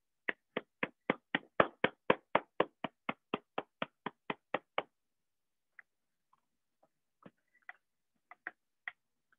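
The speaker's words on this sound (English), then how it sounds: "Ladies and gentlemen, let's give our contestants a round of applause." Single person clapping for contestants in an online speech contest, a steady run of about eighteen crisp, evenly spaced claps close to the microphone, then a few scattered, fainter claps after a pause.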